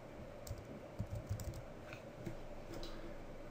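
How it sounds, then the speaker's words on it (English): Typing on a computer keyboard while working in design software, a quiet run of light key clicks at a steady pace over low room hum, with no speech. "We're going to start to type just here"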